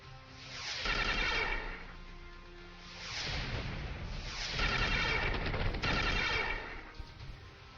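Starship bombardment fire in the space game Star Traders: Frontiers: three rolling bursts of booming, crackling blasts, each swelling and fading over about two seconds, moderately loud with no voices.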